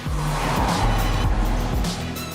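An original first-generation Mazda MX-5, a small, light and simple roadster, drives with a steady loud engine note and gear changes, close and continuous with no talk.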